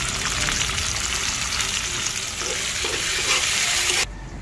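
Garlic, onion and tomato sautéing in a pan for a potato and egg dish, a loud close steady sizzle with stirring scrapes, cutting off near the end.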